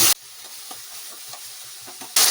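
Mushrooms being stirred into a half-cooked tomato curry in a village kitchen, with a steady low sizzle and soft, irregular scraping strokes of a spoon against the pan, ending in a louder burst of noise.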